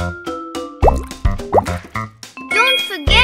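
Strawberry, sugar and water dropping into a bowl in a cooking video game: a series of cartoonish plops, bloops and drips with chiming tones, close and crisp.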